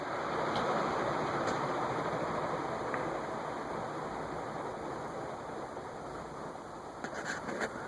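An Envirofan Gold Line 160F-7 industrial ceiling fan from about 1983 coasts down after its power is cut, giving a steady broadband whoosh of moving air that eases slightly toward the end, with a few faint ticks.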